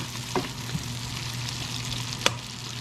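Onions sauté in a hot pan with a steady soft sizzle, broken by a couple of sharp clicks and scrapes from stirring, with no voices over the frying.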